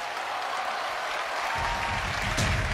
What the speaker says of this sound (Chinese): 我们掌声送给我们的魔唱歌手